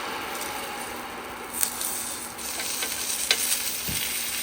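A thick steak sizzles steadily in a pan on a late-fall campsite after being flipped, a close, even hiss with a few soft pops and scrapes and no talking.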